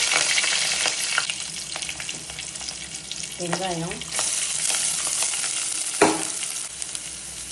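Onion and tomato with cumin sauté in a pan for a spinach kootu, giving an even frying hiss with occasional stirring scrapes close up and a brief faint voice partway through.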